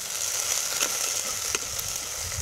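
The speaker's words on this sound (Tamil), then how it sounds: "இப்போ நம்ம கருவேப்பிலை, மிளகாய் எல்லாத்தையும் சேர்த்து நல்லா வதக்கி விட்டுடலாம்" Onions, curry leaves and chillies sautéing in oil for a drumstick gravy, a brief, steady close-up sizzle with a few small crackles.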